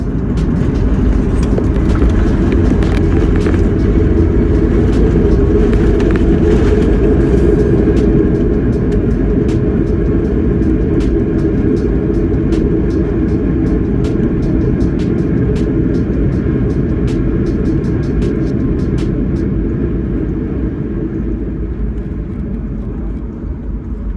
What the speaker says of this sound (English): Making our final descent, we flew over the Massachusetts Bay